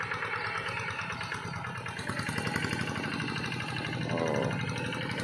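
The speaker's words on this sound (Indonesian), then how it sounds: "Itu momen-momen bagaimana memindahkan traktor." A modified tractor engine runs steadily as the machine is moved, a continuous mid-pitched chugging drone with slight rises in intensity, fairly close and loud throughout, with occasional voices in the background.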